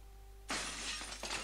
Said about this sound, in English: Shattering windows destroying other people's property!